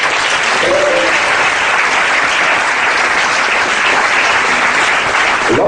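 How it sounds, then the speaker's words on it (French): An audience at a church ordination claps loudly and continuously, a dense wall of applause from a large crowd close by, holding steady without a break. "Nous pouvons acclamer le Seigneur."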